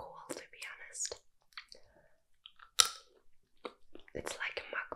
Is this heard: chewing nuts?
yes